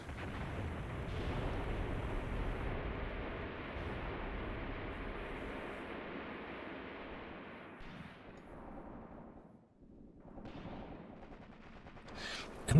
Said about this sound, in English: Looks like the Soviets are running into their own artillery over there.